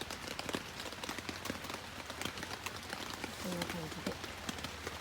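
Rain falls steadily at a lakeside campsite on Lake Ogawara during a typhoon, a dense patter of drops hitting surfaces throughout, with a person talking briefly over it near the end.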